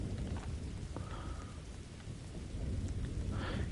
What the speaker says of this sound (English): Thunder's the sound,